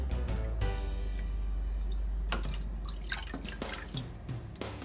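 Water drips and trickles close by as salt mackerel soaks in a bowl of cold water in a kitchen, with scattered splashy drops over a steady low hum.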